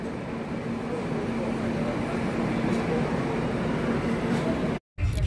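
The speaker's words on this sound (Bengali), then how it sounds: "আমাদের ট্রেন ছেড়ে দিয়েছে" A passenger train pulls away from Kolkata station and runs on, producing a continuous low rumble and hum from inside the carriage that briefly cuts out near the end.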